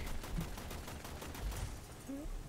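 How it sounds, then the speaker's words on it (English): Rapid gunfire in the video game Warframe, a steady stream of repeated shots running through the whole moment at moderate level with no talking. "we need to keep shooting this"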